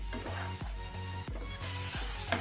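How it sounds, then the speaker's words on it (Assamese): Chicken pieces going into hot oil for a chicken and taro curry, a constant bright sizzle with repeated rhythmic scraping strokes of a spoon against the pan, close and steady with no talk. "এতিয়া ইয়াতে দি দিম আমি চিকেন ইয়াতে চিকেনটো দি দিম আৰু এইখিনি ভালদৰে লৰাই ল'ম"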